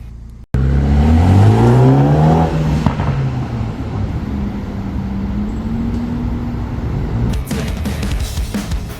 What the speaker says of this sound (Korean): 20i 차량도 배기 작업 후에는 아주 중저음의 묵직한 배기음 잘 나옵니다.